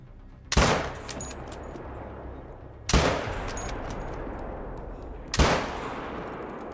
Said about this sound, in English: I'll shoot the bear.